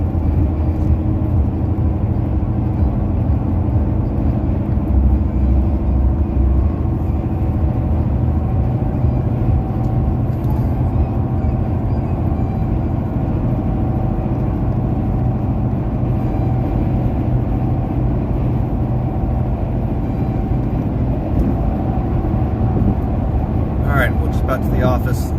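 Steady interior car cabin drone of a car on a long highway drive from Kansas, a low rumbling road and engine hum that holds constant throughout, with a faint brief rattle near the end.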